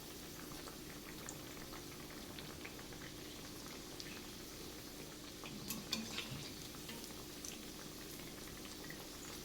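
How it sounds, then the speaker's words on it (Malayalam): Sabudana vada frying in hot oil on a low flame, a steady close bubbling and gentle sizzle that carries on evenly with a few slightly louder pops, and no voices over it. "ഇനി നമുക്ക് ലോ ഫ്ലെയിമിൽ ഫ്രൈ ചെയ്തെടുക്കാം."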